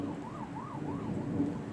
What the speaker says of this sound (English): And the sirens are going off.